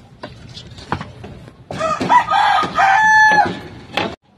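A native chicken clucks a few times, then lets out a loud drawn-out crow close by, with low background noise.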